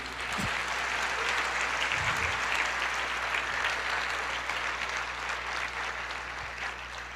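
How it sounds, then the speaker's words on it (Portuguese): A church congregation claps in sustained, dense applause that holds steady and fairly distant for several seconds, with no voices standing out above it. "aplauda o Senhor"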